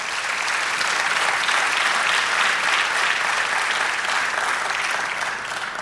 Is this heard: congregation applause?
yes